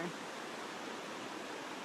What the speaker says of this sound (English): We've got this rushing brook of water here.